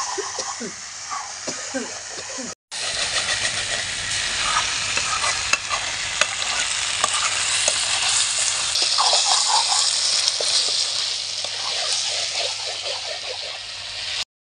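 Chicken pieces sizzle and fry with spices in a non-stick kadai while being stirred, a steady close hiss running throughout with scraping stir sounds and a brief cut near the start.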